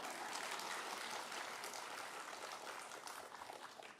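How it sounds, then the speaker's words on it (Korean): A church congregation applauds during a sermon, a soft, dense patter of many hands that stays steady for a few seconds, faint and distant with no voices on top. "박수가 나왔습니다. 지금."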